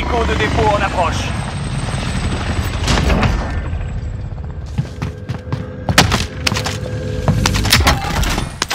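A helicopter in the video game Call of Duty: Modern Warfare thrums loudly and continuously while gunfire bursts and sharp impacts crackle on top, with voices talking through the scene.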